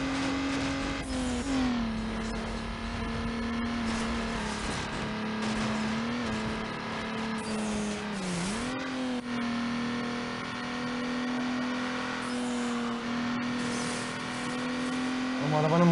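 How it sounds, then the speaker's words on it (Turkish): A car engine in the racing game Need for Speed Underground drones at steady revs with a brief dip and rise in pitch, loud and continuous, with someone talking over it. "Ama arabanın motor sesi değişti ha."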